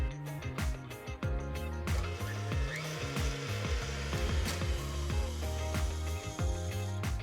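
Stand mixer whisking eggs and coconut sugar on high speed, a loud close motor whir with rapid rhythmic rattling and clattering of the whisk against the bowl, continuous throughout with no talking.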